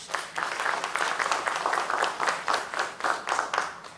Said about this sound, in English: Give that another round of applause.